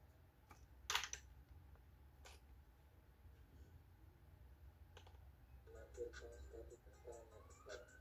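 A command is typed on a computer keyboard during a networking class exercise. Sparse clicks come first, then a quick run of light key taps near the end, soft and close over low background hum.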